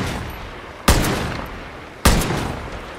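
Two loud, close gunshots in the shooter game Far Cry New Dawn, spaced about a second apart, each a sharp crack with a long echoing tail over steady background ambience.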